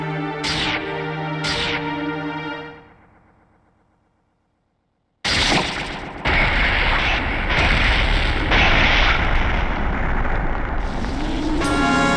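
Fierce Deity's sword in Majora's Mask fires beams: two bright, ringing zaps up front fade into silence, then a loud, rumbling, roaring barrage of impacts and effects carries on to the end.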